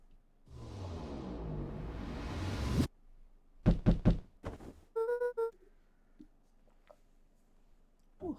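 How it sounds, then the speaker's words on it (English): Several sharp knocks on a door in the video game Beacon Pines, clustered in a quick burst and then a second group, with a brief chime and quiet gaps between. "Oh, that was a knock, wasn't it?"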